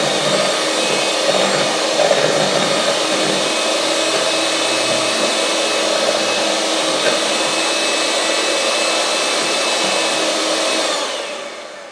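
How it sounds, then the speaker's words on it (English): An electric mixer whirs steadily and loudly through pumpkin cheesecake batter with cream cheese, holding an even high-pitched drone for about eleven seconds before winding down at the end. "we're going to do one more mix through, just to get any of those little cream cheese lumps"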